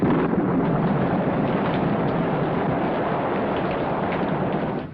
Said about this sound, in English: Down came a thundering torrent of rain.